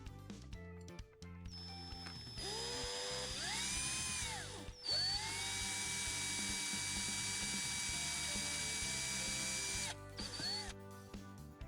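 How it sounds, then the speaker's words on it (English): A power drill whines continuously, boring through a plastic post in a 2004-2008 Ford F-150 gas lid housing, its pitch rising and falling as it spins up and bites in, with short pauses and mechanical rattling underneath. "finished this part by drilling all the way through to the bottom"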